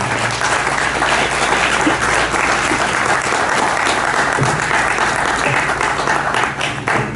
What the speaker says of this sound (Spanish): para que le brindemos un aplauso por sus 50 años de investigación